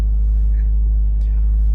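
A 2022 Subaru WRX Limited engine idles just after starting, a deep steady rumble heard from inside the cabin, with faint brief clicks over it.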